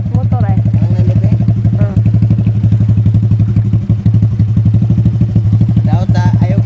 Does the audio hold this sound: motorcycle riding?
yes